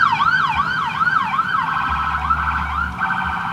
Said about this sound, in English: Sorry for the ambulance in the background.